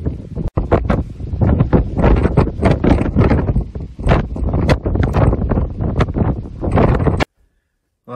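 Strong mountain wind, gusting at over 100 km/h on a Pyrenees pass, buffets the microphone with loud, roaring, irregular blasts that go on almost without a break before cutting off abruptly near the end.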